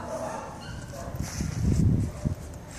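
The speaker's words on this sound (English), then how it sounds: "They are Jack Russell Terrier brothers." Jack Russell Terrier brothers give a few short yips and barks, fairly close and moderately loud, mixed with whimpering and a person speaking softly nearby.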